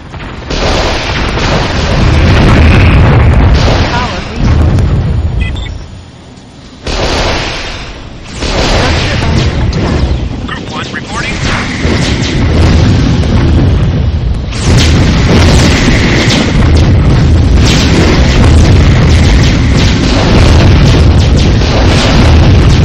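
Laser satellite strike in Warzone 2100 producing heavy, loud booming explosions in long rumbling bursts, with a short lull partway and then renewed blasts, near and powerful.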